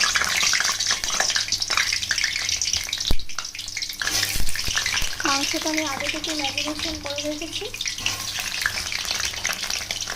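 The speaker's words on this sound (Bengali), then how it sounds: "আলুগুলো ভেজে নিচ্ছি।" Potatoes fry in hot oil in a wok, giving a steady, close sizzling hiss that runs throughout while someone talks over it.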